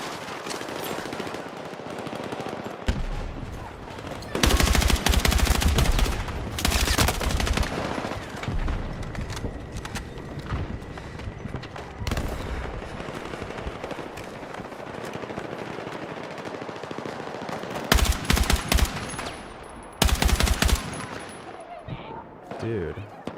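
Rapid bursts of automatic gunfire from a shooter video game crackle loudly in repeated volleys, some long and some short, over a constant background of game noise.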